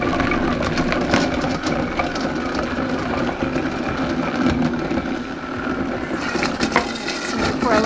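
A blender whirs through butternut squash soup with a little water added, a steady churning motor drone with a sloshing liquid texture that holds fairly loud and continuous throughout.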